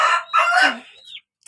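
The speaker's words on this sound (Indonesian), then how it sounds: "ini ayam-ayam peliharaan suami saya" Bangkok chickens kept as backyard pets crowing: two loud, close cock-a-doodle-doo calls in quick succession, the second trailing off, followed by a brief faint cluck.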